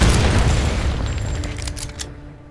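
A mine blows up in the 2013 Tomb Raider game: a loud, close boom with deep rumble that decays over about two seconds, followed by a few sharp crackling bursts of debris.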